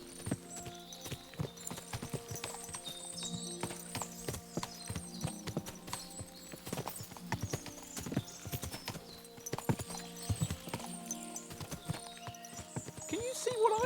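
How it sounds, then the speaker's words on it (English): Many horses' hooves clip-clop in a video game, dense overlapping hoofbeats with an occasional whinny, close and lively throughout, with a voice speaking over the clatter. "What a lot of horses!"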